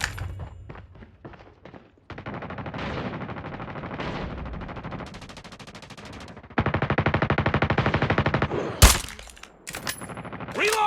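Bursts of rapid machine-gun fire in a first-person shooter video game, with several long sustained volleys, shorter scattered shots between them, and a sharp loud impact near the end.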